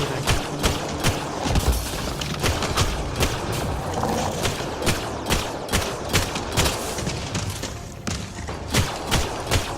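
Gunfire in the shooter game Mass Effect Andromeda: a steady run of sharp, loud shots fired in quick regular bursts over a constant background of combat noise, close and prominent throughout.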